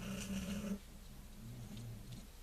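A cat snores softly close by, low rhythmic rumbling breaths repeating quietly in an otherwise calm room.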